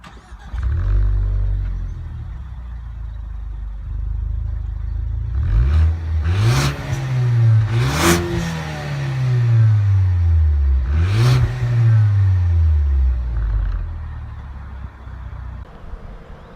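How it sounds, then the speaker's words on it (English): A 2016 Ford Focus ST in the ST3 Recaro package starts up and its stock exhaust settles into a low idle. Three sharp throttle blips follow, each rising and falling, heard close and loud outside the car. "Ford Focus doesn't make a lot of noise from this exhaust system though"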